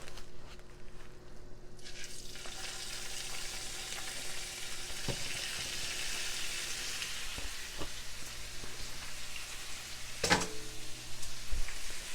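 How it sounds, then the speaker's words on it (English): A pound of ground beef browns in a pot with a loud, continuous sizzle, crackling steadily, and occasional scrapes and knocks of a spoon as it is stirred, close by. "we're going to brown our ground beef"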